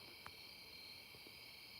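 Faint, continuous chorus of crickets trilling at a steady high pitch, quiet and distant in a still night, with a couple of soft clicks.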